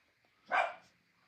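Dogs wrestling at home give out one short, muffled bark-like yelp, brief and fairly faint.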